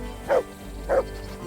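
A dog barks twice in the game Kingdom Come Deliverance II, two short, evenly spaced woofs about half a second apart, close and clear over a low steady ambient hum.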